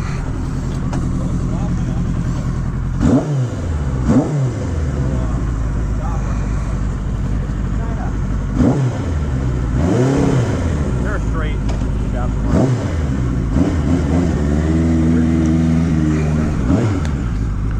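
A 1980 Suzuki GS1100 motorcycle engine runs loud and close, revving up and dropping back several times over a steady idle rumble, with someone talking over it.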